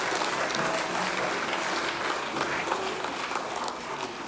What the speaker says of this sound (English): Let's give them a round of applause for being represented today.